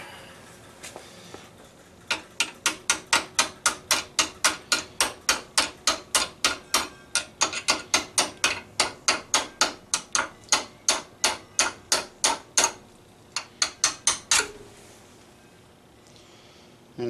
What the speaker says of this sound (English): Take my little brass hammer.